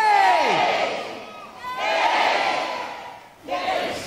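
A big crowd of children at a Singing Kettle family show cheers and shouts hooray in three loud bursts, with brief dips between them.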